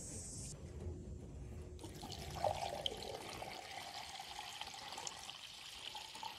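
Water pours from a water bottle onto a farm engine outdoors, a faint trickle and splash under steady wind and background noise.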